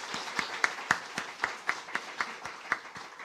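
Church congregation applauding, a steady run of distinct hand claps at a brisk even rhythm, somewhat distant and moderately quiet in a reverberant hall, with no talking over it.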